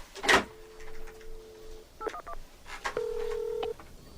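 Telephone keypad tones from a phone being dialed, a few short beeps and held tones in a quiet room, alone without speech.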